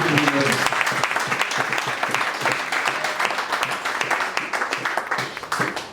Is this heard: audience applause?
yes